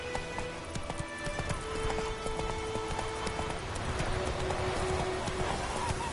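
Geralt's horse Roach in The Witcher 3 moves at a steady hoof-beat clip-clop, close and continuous, under ambient game sound with low murmurs and occasional tonal effects.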